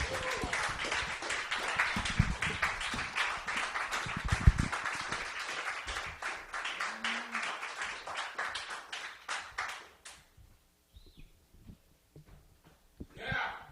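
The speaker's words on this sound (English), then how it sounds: "A round of applause for Faye Pollett, everyone." A live podcast audience claps in sustained applause that gradually thins out and stops, leaving near silence with a brief sound at the end.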